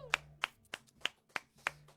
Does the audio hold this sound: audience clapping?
yes